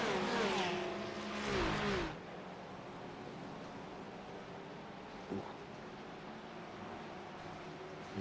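Race cars in a video game endurance race at Watkins Glen, with a Porsche ahead. A loud engine whine rises and shifts for about two seconds, then gives way to a quieter, steady engine hum with a brief knock partway through.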